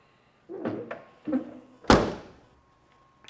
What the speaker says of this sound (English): Door closes well, not much effort there.